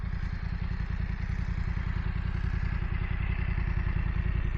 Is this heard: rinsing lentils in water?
no